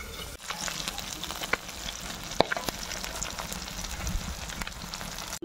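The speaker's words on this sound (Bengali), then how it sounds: "এক খোলা ভেজে নিয়েছি, আর এক খোলা ভেজে নেবো, কারণ 3 পিস করে আমি ভাজছি।" Pabda fish frying in hot oil in a pan, a steady close sizzle and crackle with occasional sharp pops, running continuously with no talking.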